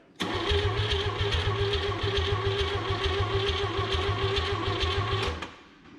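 A 1959 Chevrolet engine cranks on full choke with a rapid, even starter chug that runs for about five seconds without catching, close and loud, then stops.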